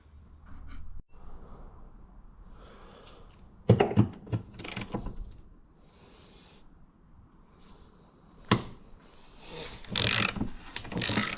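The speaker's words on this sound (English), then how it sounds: "This is the last bolt coming out now." A ratchet undoes the last bolt on the sill of a 1990s Mitsubishi Pajero Mk2 2.8 during chassis repair, heard as bursts of metallic clicking at close range with clunks and quiet gaps between them.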